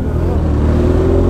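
A Suzuki Hayabusa motorcycle engine revs loud and close, a steady heavy mechanical roar with no talking.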